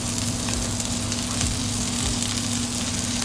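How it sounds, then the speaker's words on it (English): Chapli kebab smash burgers fry on a hot griddle at 400 Fahrenheit, giving a loud, steady, crackling sizzle with no voices. "Burgers are cooking here."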